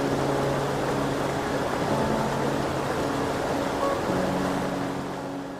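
Baatara Gorge waterfall in Lebanon, where spring meltwater from Mount Lebanon plunges about 255 meters into a Jurassic limestone sinkhole, makes a steady, dense roar of rushing water that holds even throughout and eases slightly at the end.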